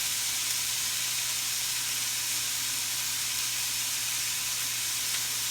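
A ribeye steak sizzling on an indoor grill, giving a steady, even hiss of fat and juices that runs unbroken throughout, with a faint low hum beneath and no talking.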